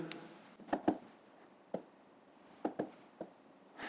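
Pen scratching on paper while working out a long division problem in a fifth-grade math exercise, a few short quiet strokes and taps spaced irregularly, close and soft with no talking.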